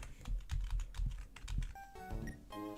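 Rapid typing on a computer keyboard during a Pokémon game, a quick run of close, crisp key clicks followed by a few softer taps.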